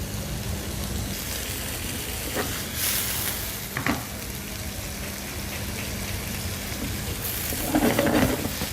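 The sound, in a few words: hake and calamari frying in pan for seafood paella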